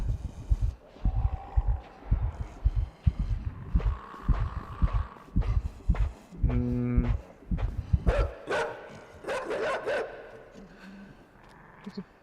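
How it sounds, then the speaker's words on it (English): A dog barks repeatedly in the video game INSIDE, a run of sharp barks and yips amid game noise while someone talks over parts of it. "There's a dog watching us."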